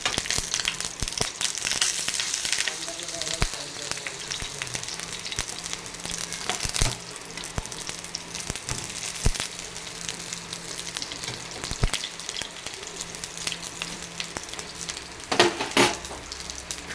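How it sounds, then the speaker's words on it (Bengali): Pointed gourd (potol) frying in hot oil in a pan makes a constant close sizzle, broken by sharp clicks and scrapes as the pieces are turned, loud and without any talk. "আর এখানে আজকে আমি করে নিচ্ছি একটু তেল পটলটাকে আমি ভেজে নিচ্ছি।"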